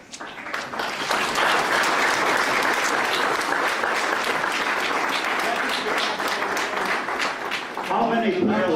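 An audience breaks into sustained clapping that swells after the first second and stays loud and steady, with a voice over it near the end.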